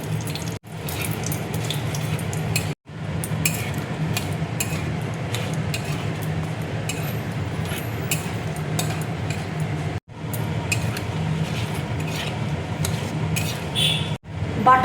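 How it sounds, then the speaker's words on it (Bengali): Bay leaves, dried red chillies and whole garam masala drop into melted ghee in a wok for pulao, giving a steady close sizzle with crackles and a few brief gaps in the hiss. "এবার আমি তেজপাতা দেখো দিয়ে দিচ্ছি, শুকনো লঙ্কা দেখো দিয়ে দিচ্ছি, গোটা গরম মশলা দেখো দিয়ে দিচ্ছি।"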